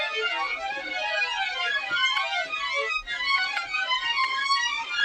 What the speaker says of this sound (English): controlling a violin with a centroid.